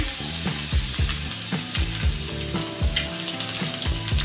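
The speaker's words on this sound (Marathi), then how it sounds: "तेल गरम करत ठेवलेलं आहे, त्याच्या मी मध्ये 7-8 लसूण पाकळ्या टाकते" Seven or eight garlic cloves sizzle and fry loudly in hot oil, close by. Spoon or pan knocks come through now and then, and no one speaks.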